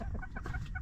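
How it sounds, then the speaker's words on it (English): A backyard hen that has escaped from its coop clucks in a few short, repeated calls close by, over a steady low background rumble. "One of our hens is outside."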